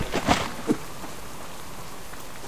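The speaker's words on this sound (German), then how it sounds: "Regen." Steady rain falls in the survival video game Subsistence, a constant hiss of drops on surfaces with a couple of brief louder taps near the start, no talking.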